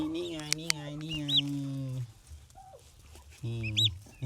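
Baby turkeys on a farm in Thailand give short, high, rising chirps, heard mostly at the start and end between louder people's voices talking nearby.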